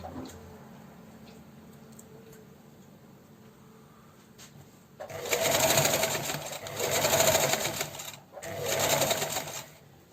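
A home sewing machine stitches fabric for homemade shorts, running in three loud bursts of steady whirring after a few quiet seconds, with brief pauses between runs.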